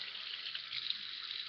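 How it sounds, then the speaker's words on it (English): Water from a tap runs into an emptied eggshell, a soft, steady, faint trickling hiss that stays even throughout. "cover your finger on the small hole and fill it up with water"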